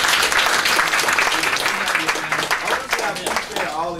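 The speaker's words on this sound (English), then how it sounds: "All right, so everybody give Shaky a round of applause." Loud, close applause at an awards luncheon for members, dense clapping that slowly thins while voices and chatter rise underneath.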